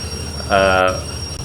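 Train braking in the railway simulator game Derail Valley: a brief, bright metallic squeal that swells for under half a second over a steady low rumble, fairly loud, with no talking.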